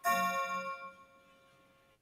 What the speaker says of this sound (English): we're having beautiful chimes in the background